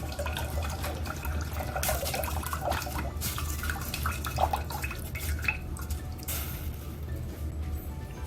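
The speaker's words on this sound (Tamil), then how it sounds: "உங்களுக்கு எவ்வளவு தேவையோ அந்த அளவுக்கு தண்ணி சேர்த்துக்கலாம்." Water is poured into diluted tamarind extract in a cooking pot for rasam, giving a soft splashing, trickling flow with a few louder bursts, fairly quiet over a low background hum.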